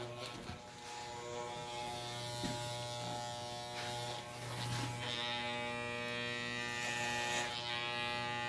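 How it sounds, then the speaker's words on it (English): Electric hair clipper fitted with a number 3 guard running steadily while cutting a child's curly hair, a continuous close buzz with slight changes in pitch as it moves through the hair. "So like we said from the last video, clipper, then we got the clipper guard, okay?"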